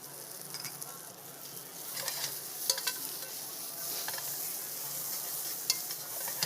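Bacon and rehydrated sun-dried tomatoes sizzling in a pan during a soup demo, a faint, steady crackle with occasional sharper pops, heard alone without talking.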